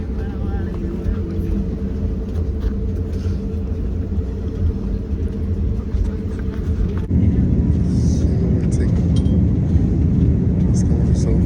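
A passenger airplane takes off, heard from inside the cabin as a steady engine drone that swells suddenly into a louder roar partway through.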